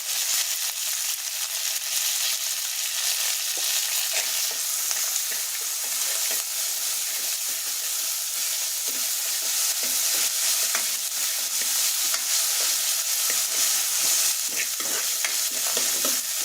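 Masala of curry leaves, coriander and ginger-garlic paste frying in a pan, with a steady bright sizzle throughout and frequent scrapes and clinks of stirring, close and continuous with no talking.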